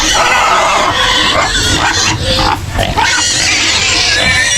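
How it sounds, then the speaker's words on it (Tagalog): Pig grunting and squealing loudly at close range in a rural Philippine farmyard, a continuous agitated noisy chorus filling the clip with little pause, no talk. "Ang baboy ay iritan-iritan na."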